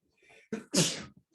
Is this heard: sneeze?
yes